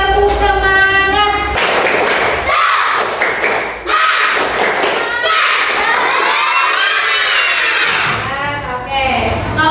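Schoolchildren in Indonesia cheer and shout loudly together during a rhythmic clapping chant, a lively, continuous burst, with a few thumps that could be claps mixed into the noisy crowd sound.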